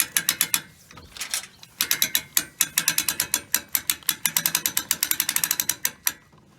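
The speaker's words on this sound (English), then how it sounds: "we are going to keep pulling on the trailer winch until it gets a little bit snug" A ratcheting trailer winch clicks rapidly in steady bursts while raising a Flying Scot sailboat mast, close and crisp, with brief pauses between runs of pulls.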